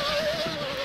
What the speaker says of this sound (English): That thing sounds like a freaking jet fighter.